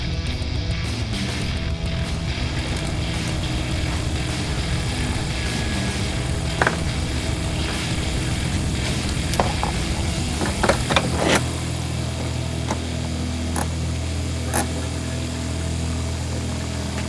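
A Subaru Impreza WRX rally car, the 'Patriot' built by Dirty Racing Products, runs its engine close by in a continuous rumbling idle with occasional rises and sharp mechanical clicks, and no one talks.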